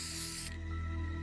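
Spray effect from the video game Fortnite: a bright, broad hiss that cuts off sharply about halfway through, followed by a low, steady hum, with no voices.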